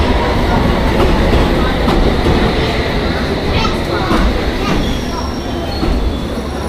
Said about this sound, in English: Looks like there's a train coming now.